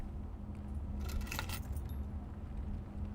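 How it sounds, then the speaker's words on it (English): Car keys in the video game Blue Prince give a brief metallic jingle, a short cluster of rattling taps over a low steady hum, with no talk. "Car keys."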